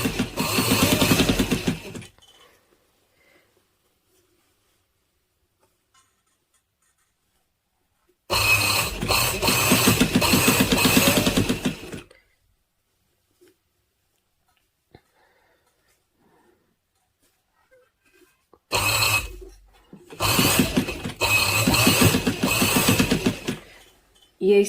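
A sewing machine stitches a frill onto a girl's frock in three separate loud bursts of rapid rhythmic whirring, each a few seconds long, separated by stretches of near silence.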